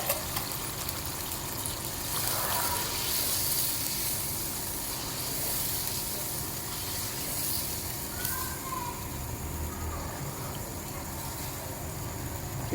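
Hot water poured into frying ghee with mutton trotters for an Eid paya dish, giving a steady loud hiss and steamy sizzle that holds throughout with faint bubbling underneath.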